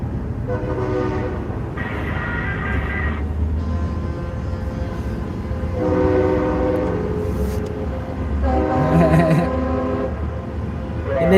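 Air horns from trucks in a highway convoy sound in repeated long blasts, about four separate chords over a steady engine rumble, with voices faintly beneath.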